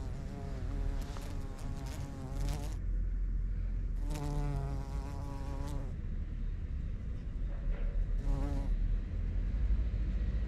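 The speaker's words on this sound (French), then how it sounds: "Là c'est un bourdon." A bumblebee foraging near beehives in spring buzzes close by in several droning passes that rise and fade, with quieter gaps of background between them.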